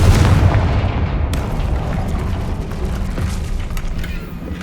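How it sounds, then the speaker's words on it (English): The Confringo blasting spell breaks open a barrier in Hogwarts Legacy: a loud, close burst that rolls into a sustained rumbling roar and slowly fades over several seconds. "We can blast through it, I'm certain. Confringo."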